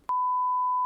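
A single censor beep, a pure steady tone, cuts in abruptly after a brief quiet moment and holds loud and unbroken to the end.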